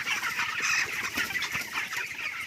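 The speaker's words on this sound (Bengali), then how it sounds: "আপনাদের সামনে মুরগির পাখিগুলো তাড়িয়ে নিয়ে যাচ্ছি" Chickens on a poultry farm cluck and squawk close by as they are herded along, a busy overlapping chorus of fowl calls with no talk.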